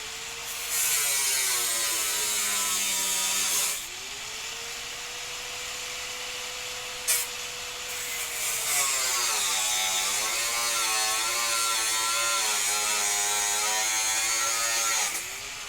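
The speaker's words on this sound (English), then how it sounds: "but it's still gonna be fucking loud. It's a grinder." An angle grinder running with a steady high-pitched whine that dips briefly as load changes, continuous and loud through most of the stretch, with a short click midway.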